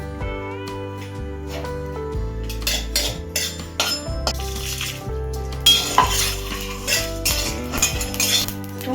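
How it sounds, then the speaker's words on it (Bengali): Red chillies, coriander, cumin, fennel and peanuts are dry roasted in a wok. Repeated metallic clinks and scrapes of a spatula against the pan sound over loud, continuous background music. "প্রথমে আমি সেই শুকনো কড়াইয়ে এগুলোকে ভেজে নেবো"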